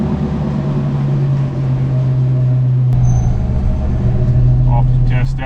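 A Chevy square body truck drives on a test run after a steering alignment, its engine a steady low drone with road rumble throughout, loud and close from inside the cab.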